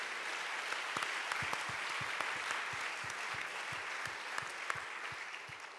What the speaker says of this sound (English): let's give another round of applause to all the artists who are in the show.